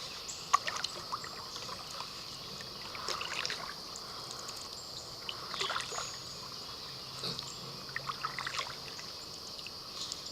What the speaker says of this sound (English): I'm going to go to the left and paddle between the trees